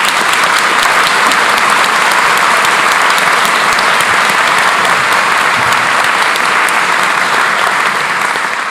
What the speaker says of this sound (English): So I'd like to give you all one more round of applause.